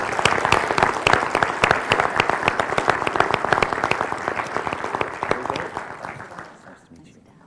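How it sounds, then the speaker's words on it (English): Audience at a leadership event bursts into loud, dense applause, many hands clapping close and steady before the sound gradually tapers off toward the end. "So give yourselves a round of applause."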